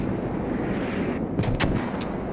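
Mortar rounds land at a forward operating base in the military shooter game Squad, with a few sharp booming impacts over a dense, steady rumble of battle noise.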